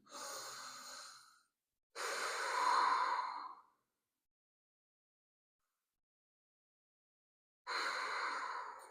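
Slow deep breaths during a yoga child's pose, three long audible exhales and inhales separated by silence, close and soft.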